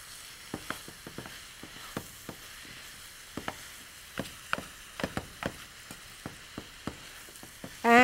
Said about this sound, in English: I'm going to brown this turkey very nicely